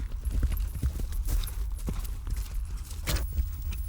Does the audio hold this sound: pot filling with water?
no